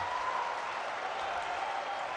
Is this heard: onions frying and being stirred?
no